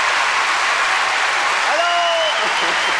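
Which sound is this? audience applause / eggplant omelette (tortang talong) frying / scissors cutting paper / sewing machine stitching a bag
audience applause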